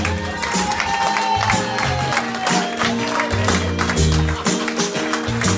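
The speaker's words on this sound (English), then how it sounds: "can you give these two a massive round of applause?" A concert crowd claps and cheers for two performers, a dense wash of applause mixed with music still playing underneath and voices in the crowd.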